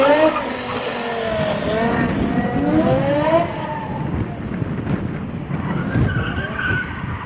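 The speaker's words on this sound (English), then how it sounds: "But Leon Engelbrecht not driving his competition car, driving the M5 BMW. This thing is just awesome around here. Just listen to it off the line" A BMW M5 driven hard at a gymkhana motor club event spins through a 360, its engine roaring with rising and falling revs as the tyres skid and squeal, loud and close throughout.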